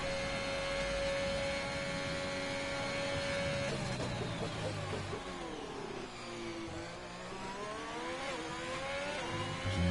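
An F1 racing car in a racing game accelerates flat out down the Bahrain straight with DRS open. The engine whine climbs steadily and loud, then drops and rises again through gear changes.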